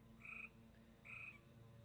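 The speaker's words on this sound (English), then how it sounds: "I don't know now if you can hear this flipping tree frog barking." A tree frog barks twice outdoors at night, two short, evenly spaced calls rising out of a faint, low background hum.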